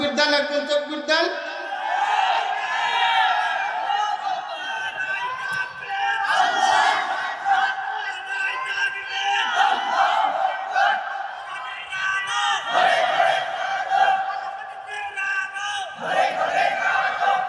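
Large crowd at an outdoor Islamic religious gathering shouting takbir in unison, loud roaring call-and-response bursts that rise and fall every few seconds, repeated about five times, with voices blending into one massed roar.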